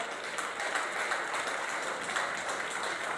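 An outdoor crowd at a polo club applauds the ladies' polo teams with steady, dense clapping, fairly faint and distant, with no speech over it.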